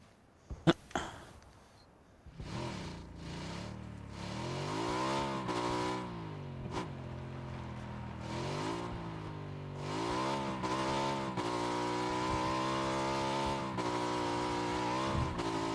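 Motorcycle engine in PlayerUnknown's Battlegrounds, starting after a couple of sharp clicks, then idling and revving steadily with rising and falling pitch for over ten seconds, loud and close, with no talk.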